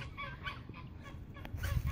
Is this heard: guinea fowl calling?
yes